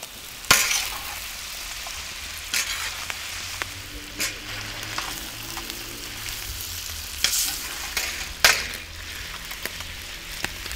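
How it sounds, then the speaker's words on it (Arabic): Meat for muqalqal sizzles and fries in a pot while a spoon stirs it, with scraping clinks against the metal and a steady crackling underneath. "الحين نفكه ونشوف نعطيه تقليبه خفيفه كده"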